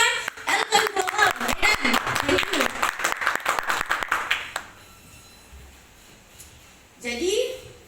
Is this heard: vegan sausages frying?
no